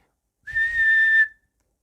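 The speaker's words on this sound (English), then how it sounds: "putting 2 fingers in his mouth, he let out the loudest whistle" A single loud, shrill two-finger whistle held steady for nearly a second, piercing and close, then cutting off abruptly with no voices around it.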